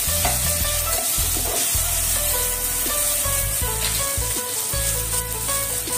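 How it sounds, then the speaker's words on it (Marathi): Raw potato frying in oil over medium heat for sabudana khichdi, a loud, close, continuous sizzle with crackling and occasional stirring scrapes, no voices. "फ्राय करून घ्यायचा कच्चा बटाटा"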